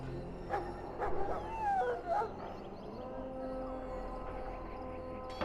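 A dog in Dragon Age: Origins barks and whimpers in short, plaintive bursts over a steady low ambient bed, with a few yelps standing out in the first half.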